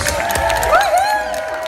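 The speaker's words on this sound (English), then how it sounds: "Round of applause, please." Brief burst of audience applause and cheering at a gaming festival in Ireland, steady clapping and scattered shouts over a busy hall background.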